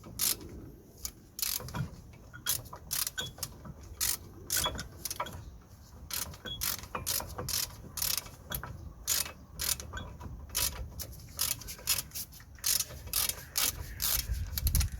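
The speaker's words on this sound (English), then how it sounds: "next we're gonna line up the pins and we're gonna try screwing them" Brake caliper pins being screwed in on a Vauxhall Opel Astra during a front brake replacement, heard as quiet, irregular metallic clicks and ratcheting taps spread across the whole stretch.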